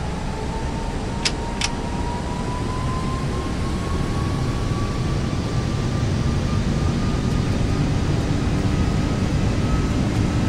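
Airbus A330 engines spool up during a takeoff roll in the Prepar3D flight simulator, a steady loud broadband roar with a slowly rising whine, joined briefly by two short clicks near the start.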